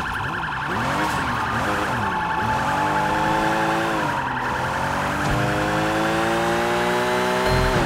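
Police car sirens in the video game Sleeping Dogs wail continuously and loudly through the whole stretch, with rising and falling tones over steady traffic and engine noise.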